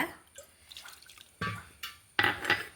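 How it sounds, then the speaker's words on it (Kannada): A cup of water is poured into dosa batter with curd in a home kitchen, heard as a few short splashes and drips, quiet and close, separated by brief pauses. "ಅದೇ ಕಪ್ಪಲ್ಲಿ ಒಂದು ಕಪ್ ನೀರು ಹಾಕೊಂಡು ಬಿಡುವ"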